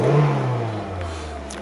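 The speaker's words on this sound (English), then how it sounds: "Start it up, makes a great sound." Mazda MX5 roadster engine catching and revving at close range, a strong low hum that swells briefly then settles into a steady idle, with no talk.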